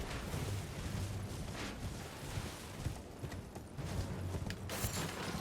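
A horse's hooves pound steadily at speed during a ride in the video game Elden Ring, a dense, continuous drumming mixed into loud game ambience, with no voices.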